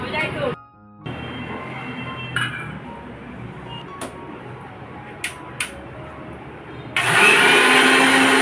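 A white mixer grinder with soaked chia seeds is prepared amid clinks of a jar and a person talking, then the motor kicks on near the end with a loud, steady whirring roar.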